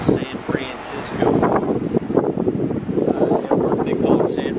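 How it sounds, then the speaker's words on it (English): Strong wind buffeting the microphone at Ocean Beach in San Francisco near the Cliff House, a loud continuous roar with gusty surges, while a person talks over it throughout. "it's pretty cold and windy"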